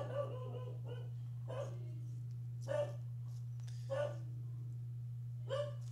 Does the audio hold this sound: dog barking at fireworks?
yes